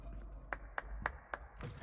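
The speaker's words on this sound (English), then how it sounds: "Are you clapping for yourself?" Four evenly spaced hand claps sound in Hogwarts Legacy, crisp and moderately close, over a low background murmur.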